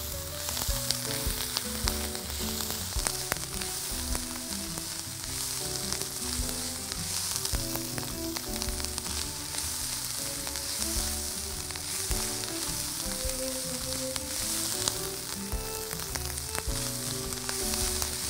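Small diced carrots frying in a pan, a steady loud sizzle close up that carries on without a break, with faint scraping as they are stirred.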